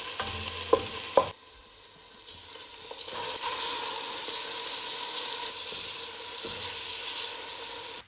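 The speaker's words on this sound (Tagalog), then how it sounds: "At dahil si Lola ang kakain ay ginisa ko lamang sa sibuyas at walang bawang" Onion and chicken drumsticks sautéing in a pan with no garlic, giving a steady close sizzle and hiss, with a few sharp utensil clicks at the start and no talk.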